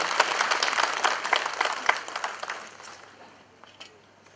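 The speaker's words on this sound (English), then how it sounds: "Shall we have a round of applause?" An audience at a mountain development summit breaks into a round of applause, dense clapping at first that gradually thins and fades over a few seconds.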